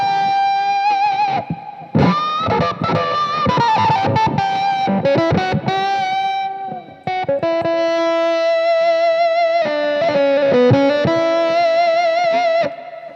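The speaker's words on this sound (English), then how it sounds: "a super Hendrixy effect which is called the octave fuzz" An electric guitar plays through an octave fuzz pedal in a Hendrix-style tone, with sustained, buzzy, saturated notes and short phrases that pause briefly partway through. No voices are heard.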